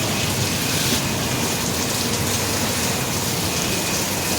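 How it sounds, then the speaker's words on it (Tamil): Heavy rain pours steadily in Chennai, a dense, even hiss of water striking surfaces close by, unbroken and with no voices. "பட்டு செம்ம மழை பெய்யுது."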